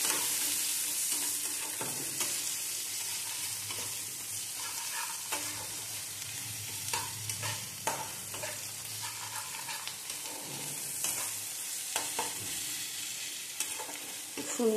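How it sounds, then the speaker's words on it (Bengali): Marinated chicken pieces with spices for doi chicken are stir-fried in a pan, giving a continuous sizzle broken by repeated scraping and clacking of a spatula, with no talk. "এবার এটাকে ভালো করে কষাবো, ভালো করে কষিয়ে নেব।"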